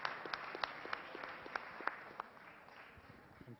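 A lecture audience gives a closing round of applause at an endowment lecture award event, many hands clapping in a dense, moderately faint patter with a few sharper nearby claps that gradually taper off.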